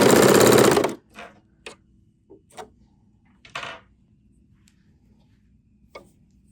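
A serger sewing machine stitching and trimming a seam gives a loud, fast mechanical whir for about a second, then stops, leaving scattered faint clicks and taps.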